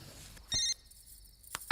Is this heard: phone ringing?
yes